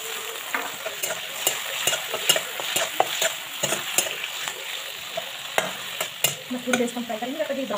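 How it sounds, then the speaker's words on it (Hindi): Tomato and onion gravy fries in a kadai, a steady crackling sizzle punctuated by repeated sharp scrapes and clinks of a spoon stirring against the metal pan, close and fairly loud. "मैं थोड़ी देर इसको फ्राई करेंगे, कभी ब्राउन ब्राउन कर देंगे।"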